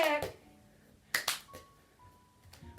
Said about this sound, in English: See if you can do a triple clap